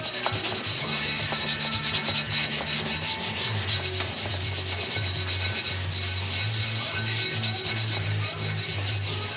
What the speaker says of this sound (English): I'm just gonna try and put a little brake cleaner and do a little scotch pad on these